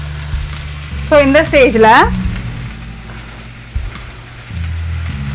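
Green capsicum sizzles and fries in a sambar pan, a steady close crackle under a brief spoken voice and a few stirring scrapes.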